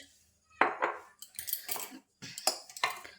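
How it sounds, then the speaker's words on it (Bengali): A spoon works dry spiced kochuri dough of flour, white oil and salt in a bowl, giving close, quiet bursts of scraping and light clinks against the bowl with brief pauses. "খুব ভালোভাবে মিক্স করে নিচ্ছি"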